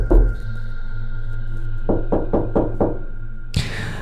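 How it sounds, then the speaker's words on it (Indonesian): Five sharp knocks on a door come in a quick, even series over a low, eerie horror drone, followed by a louder, harsher burst of sound. "Tapi ketukan pintu itu terdengar kembali."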